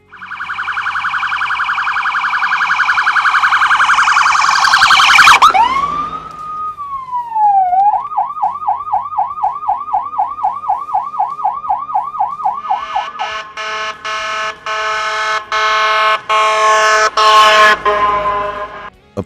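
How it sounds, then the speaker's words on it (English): An emergency vehicle siren cycles through its modes: a rising and falling T3 wail, then a rapid rhythmic yelp, then a harsh, pulsing electronic air horn. It is loud and close throughout, with no voices. "utilizing the T3, yelp, and electronic air horn modes of the siren"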